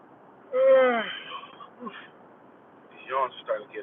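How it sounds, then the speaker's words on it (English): A long drawn-out yawn with a rising then falling voiced tone, followed a few seconds later by a shorter second yawn-like exhale, close and fairly loud in a quiet car interior. "These yawns are starting to get a little more frequent."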